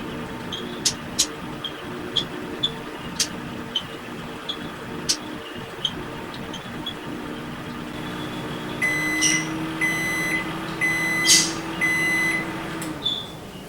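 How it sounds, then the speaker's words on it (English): A 2019 GE microwave oven running with its magnetron on, a low steady hum with regular faint clicks, then the timer runs out with a series of loud repeated beeps over the continuing hum. "this microwave killed power to the transformer magnetron first once the timer hit 0, and then a few seconds later it killed power to the light and the fan"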